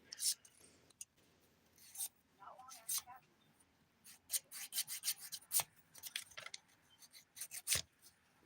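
A nail file rasps across fingernails during a dip powder manicure in quick, close, uneven strokes, some short and some in rapid runs, with a soft voice briefly under the filing.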